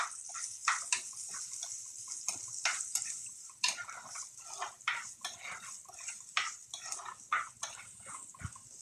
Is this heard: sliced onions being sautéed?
yes